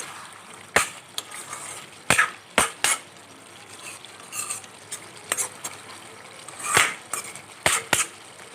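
A spatula scrapes and stirs spices frying in oil in a pan, sharp metallic clacks against the pan coming at irregular intervals over a soft steady sizzle, close and fairly quiet.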